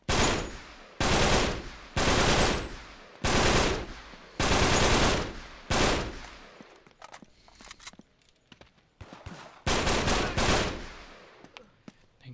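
Sustained bursts of AK rifle fire in the Uncharted 3 video game, loud and close, with roughly eight full-auto volleys of about a second each separated by short gaps, plus scattered softer shots and clatter between them.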